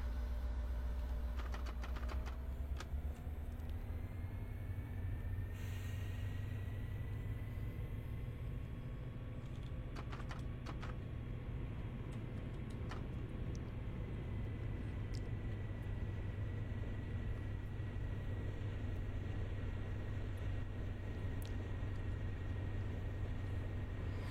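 A train runs along the track in a train simulator video game, giving a steady, loud low rumble and engine drone that holds for the whole stretch with no talking over it.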